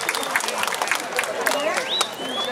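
Scattered applause and crowd noise from a large gathering at the Bali Arts Festival closing ceremony, steady and moderately distant, with some voices mixed in.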